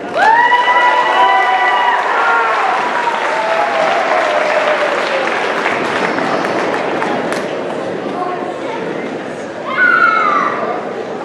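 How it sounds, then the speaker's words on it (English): At the Parkview 8th grade graduation, a large audience bursts into loud, sustained applause for the graduates, thick and continuous, with scattered cheers, whoops and shouting voices rising over the clapping and a fresh swell near the end. "A round of applause for that last girl."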